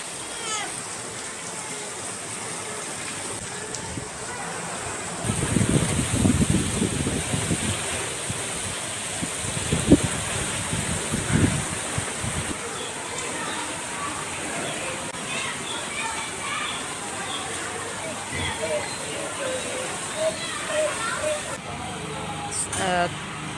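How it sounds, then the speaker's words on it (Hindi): Heavy rain pours down in Karachi, a dense continuous hiss of falling water with swells of louder rumble, while a person talks over it throughout. "आपको आवाज़ आ रही होगी बारिश की।"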